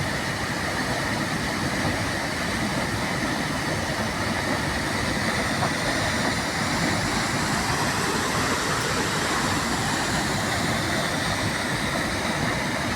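A steady, loud roar of rushing water fills the whole stretch without pause, like a waterfall heard from nearby, at Naldurg.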